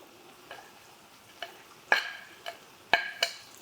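Onions, peppers and celery frying with bacon in a pan, a faint low sizzle broken by several sharp clicks and scrapes of stirring.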